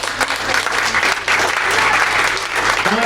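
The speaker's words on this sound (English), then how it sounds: "So let's give them a round of applause." Loud, sustained applause from an audience at a Legacy PAC political event, dense clapping filling the whole stretch without a break.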